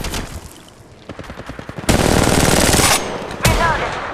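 Automatic weapon fire in the mobile battle-royale game Apex Legends on Android: a loud, close burst of rapid shots, then a sustained roar of gunfire that breaks off and resumes.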